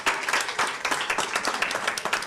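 Audience at a council hearing breaking into a burst of clapping, many hands applauding in an uneven, lively patter at moderate distance for a couple of seconds.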